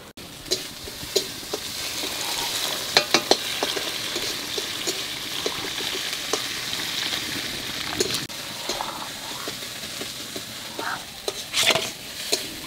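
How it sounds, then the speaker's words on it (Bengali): Ginger and green chili paste fries in a pan while dal cooks, giving a soft steady sizzle punctuated by scattered clinks and scrapes of a spatula, with no voices. "আদা কাঁচা লঙ্কাটা একটু ভেজে নিয়েছি"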